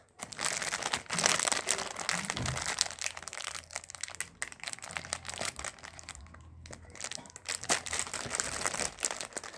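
Plastic packaging of a Labubu blind box being torn and crinkled by hand, a steady run of close, crisp crumpling and ripping noises lasting several seconds, with brief pauses.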